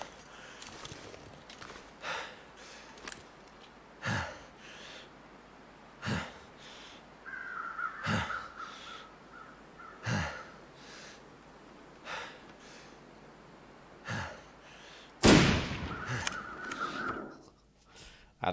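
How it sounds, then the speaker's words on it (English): Crows caw in a snowy wilderness in The Long Dark, hovering over a dead wolf: a few raspy calls around the middle and end over footsteps, breathing and soft wind. "The crows are hovering over it."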